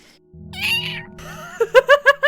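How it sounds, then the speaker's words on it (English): A cartoonish cat meows with a rising, questioning tone in the video game Eleventh Hour, followed by a quick run of four or five short, clipped mews. "Confused cat noises."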